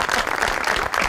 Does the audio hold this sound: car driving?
no